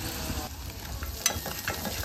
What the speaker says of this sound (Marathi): मिरची आणि कांदा व्यवस्थित शिजवून घ्यायचं आहे आपल्याला